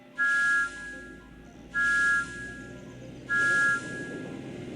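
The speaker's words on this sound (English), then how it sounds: "My whistle sounds like this." A toy train engine whistle from a Thomas & Friends game sounds three times, each a steady bright tone about half a second long, evenly spaced over a faint background hum.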